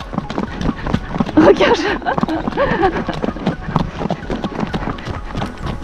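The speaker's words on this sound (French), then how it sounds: "On dirait un poney de course." A horse on a hike clip-clops along in quick, trotting hoofbeats close by, a steady rhythmic patter running under excited French speech throughout.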